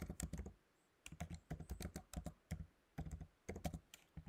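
Code being typed on a computer keyboard: quiet, close keystrokes in quick bursts with short pauses between them, and no voices present.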